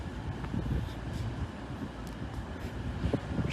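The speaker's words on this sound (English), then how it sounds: "the 1509 East Midlands Railway service from Sheffield to London St Pancras" East Midlands Railway service from Sheffield to London St Pancras passing nearby, a moderately loud rolling rumble with faint clatters of wheels and some wind noise, no talking.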